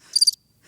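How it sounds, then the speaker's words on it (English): A cricket chirps indoors in a room, a quick burst of three or four high, bright pulses close by, then stops. "Is there a cricket in the room with us?"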